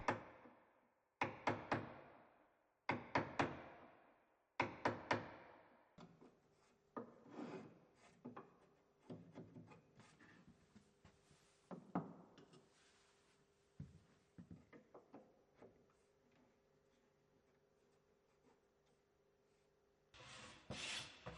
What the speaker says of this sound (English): The hinge positions marked out on the door lining can now be recessed using the same technique previously used on the edge of the door.